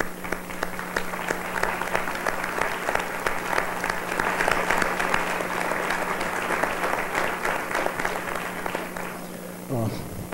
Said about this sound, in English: I would like for you to join me in applauding these teachers